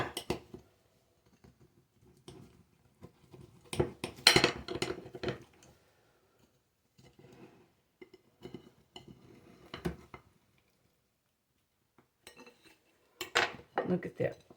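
A knife cutting pecan pie in a dish makes intermittent scraping and clinking against the dish, arriving in short close bursts separated by quiet gaps.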